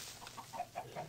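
A Minecraft Terrafirmacraft chicken clucks in a short run of soft, quick, evenly spaced clucks, faint and close with no talk over them.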